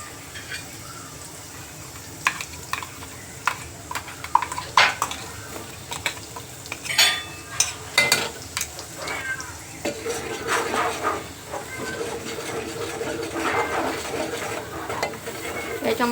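Ground masala of coriander, red chilli, coconut, onion, ginger-garlic and cilantro fries in oil for a spicy chicken curry, with a soft sizzle under sharp utensil clinks and scrapes against the pot.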